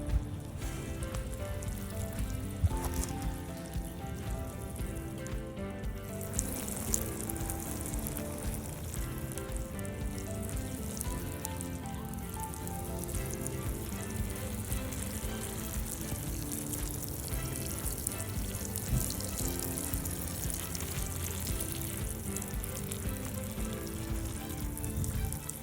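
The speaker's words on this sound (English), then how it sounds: "Lastly, you get a little water on there" Water poured onto the soil around a freshly transplanted berry bush, a steady soft hissing splash that runs on evenly throughout, close and moderately quiet.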